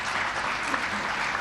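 Steady applause from an audience at a press conference about thalassemia children's care, a dense even patter of clapping held at constant level throughout with no pauses.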